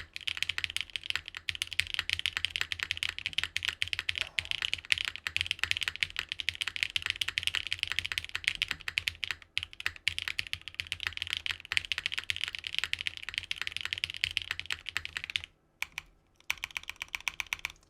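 Continuous fast typing on a tenkeyless mechanical keyboard, dense clacky keystrokes running steadily and close up, with a brief pause near the end before a few more presses; no talking.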